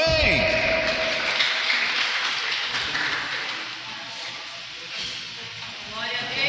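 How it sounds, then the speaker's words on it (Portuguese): A church congregation applauds loudly and steadily, a broad wash of clapping that swells and then eases, with voices mixed in beneath it. "Dá uma salva de palmas bem forte para o Senhor Jesus"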